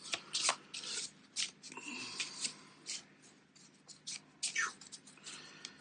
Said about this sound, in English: So we can give these a shuffle.